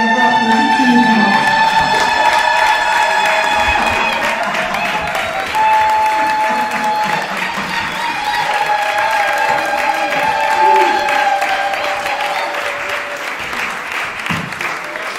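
An audience applauds an artist at a book presentation, steady clapping from a crowd joined by a few cheers and whistles, continuous and fairly loud, fading slightly toward the end.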